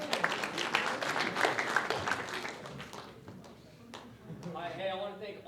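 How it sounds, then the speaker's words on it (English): An audience at a New Mexico military high school and college speech competition claps for a colonel returning to the stage; the applause is strong at first, then thins and fades as a voice begins speaking. "Give him a round of applause."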